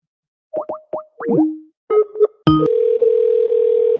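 Electronic telephone tones: a few short springy plopping blips, then a sharp click and a steady sustained dial tone droning to the end, loud and close with no talking.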